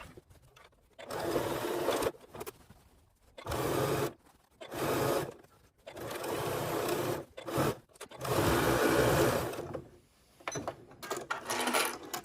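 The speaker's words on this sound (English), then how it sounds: "I'm going to use a 1/4 inch seam allowance to stitch all the way around the top" Sewing machine stitching a quarter-inch seam around the top of a fabric storage basket, joining lining to outer bag; close, steady whirring runs in several bursts of one to two seconds separated by short pauses, with no talking.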